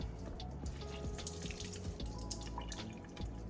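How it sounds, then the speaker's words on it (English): Water drips and trickles from squeezed collard greens being prepared ahead for Thanksgiving, a close irregular patter of drops falling into a kitchen sink or bowl, with no talking. "All right, so I'm gonna squeeze them really tight."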